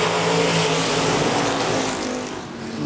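Stock cars roaring around the Park Jefferson Speedway oval under racing speed, a loud, dense wall of engine noise from several cars at once that eases slightly toward the end, with no talk.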